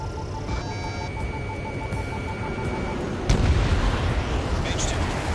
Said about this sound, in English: Mage 2 bombs away.